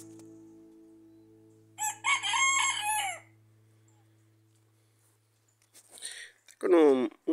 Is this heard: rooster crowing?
yes